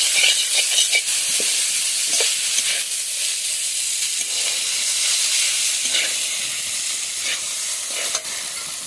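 Chow mein noodles for egg chicken chow mein are stirred and tossed in a hot pan, giving a steady loud sizzle with scraping stir sounds throughout and no talking.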